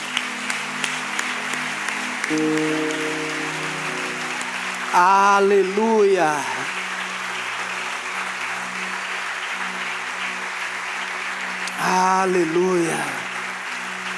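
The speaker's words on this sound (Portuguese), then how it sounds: "Vamos aplaudir Jesus." A church congregation at a conference claps and cheers, with a voice singing or calling out over the clapping, which rises into loud bursts at two moments.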